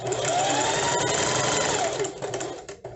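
A sewing machine stitches around the edge of a small zippered pencil pouch, a steady, fast mechanical whir running close and continuous, then slowing and stuttering near the end.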